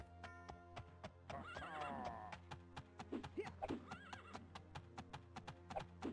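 A horse whinnies and neighs in the Daggerfall Unity role-playing game, with a centaur close by. Steady clip-clop hoofbeats run under a low drone of game music.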